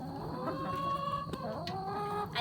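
Chickens clucking nearby, a run of soft, uneven clucks with a couple of sharper calls near the end, no talking.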